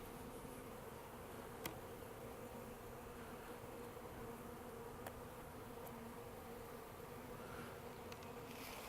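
Honeybees buzz and fan on a spring hive frame, a dense, steady, close hum that holds for the whole stretch with no voices over it.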